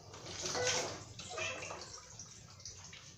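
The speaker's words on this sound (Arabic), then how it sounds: "كنديروا الماء الكافي اللي كيطيب فيه الطاجين بطبيعه الحال" Water poured into a chicken and vegetable tagine, a soft continuous splashing pour that swells briefly and then tapers off, quiet and close with no voices.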